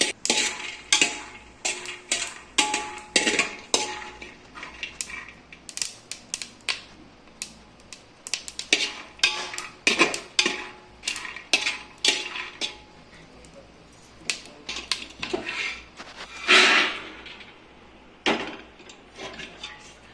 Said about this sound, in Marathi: आता आपण हरभरा भाजून घेऊया